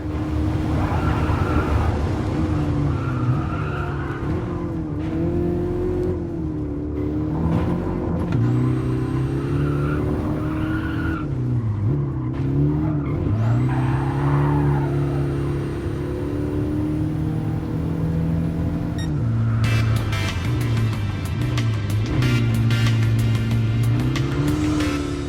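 A racing car in Gran Turismo Sport drives hard through the final corners, a loud continuous engine note rising and falling with gear changes and braking for about twenty-five seconds, close and steady.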